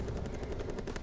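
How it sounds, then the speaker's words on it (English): An artillery gun firing in the Call of Duty WWII video game, a short burst of rapid repeated booms, loud and continuous across about a second. "look at this artillery gun"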